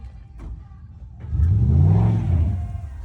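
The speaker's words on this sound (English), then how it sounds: "this next clip you're about to see is if the car moves on the trailer when my buddy floors it" A G-body race car engine strapped on a trailer idles roughly, then is floored into a loud, sustained rev that swells and holds before easing slightly, close up with no talking.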